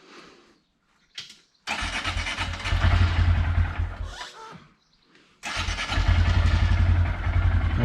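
A Honda Grom motorcycle cranks and starts twice, catching each time into a loud, close, throbbing idle, with a short stall and restart between the two runs.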